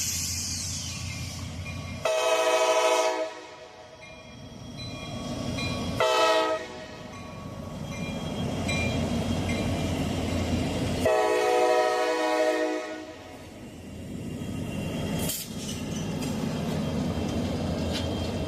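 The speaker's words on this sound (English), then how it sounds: "I am glad I filmed this train here" A train passes the Poplar Street crossing in Seymour, its horn sounding in repeated loud blasts over a steady rumble of rolling cars, with a brief sharp whistle-like burst near the end.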